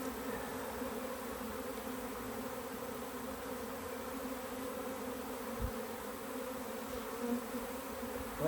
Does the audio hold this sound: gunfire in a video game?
no